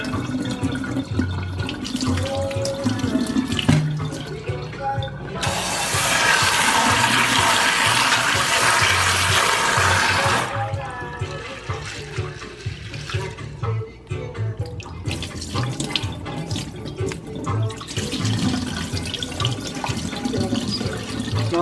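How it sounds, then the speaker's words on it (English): Tap water runs into a kitchen sink as dried peas are washed for a Caribbean Sunday dinner, a loud steady gush for several seconds amid splashing, clinking and swishing before and after. "So you're washing the peas to make sure it's very clean."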